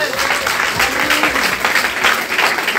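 Congregation at a church service applauding and cheering in praise, a dense, steady wash of clapping and voices filling the room throughout.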